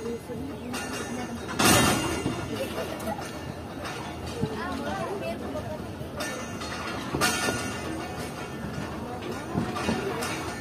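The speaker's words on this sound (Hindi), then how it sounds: "तो ट्रेन पूरे 10:20 पर डिपार्ट कर रही है, यानी कि 5 मिनट लेट डिपार्ट कर रही है कोठी जंक्शन रेलवे स्टेशन से।" The Mohen Jo Daro Express pulls out of Kotri Junction, its wheels rumbling and clattering steadily nearby while someone talks over it and station noise carries in the background.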